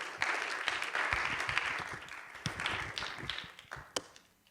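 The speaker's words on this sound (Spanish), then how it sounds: "Give him a hand tonight." Church congregation applauding during a bilingual Spanish-English sermon, scattered overlapping claps swelling and thinning over a few seconds, heard at a moderate distance and fading out at the end.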